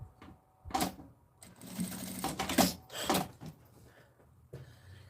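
A sewing machine stitches a small fabric zipper bag in several short bursts of rapid mechanical whirring, separated by brief pauses, heard up close.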